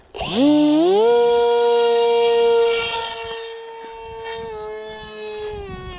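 A Mini Drak Kompact model airplane's motor and propeller whine quickly rises in pitch into the wind, holds a loud, steady high drone, then eases slightly lower and continues.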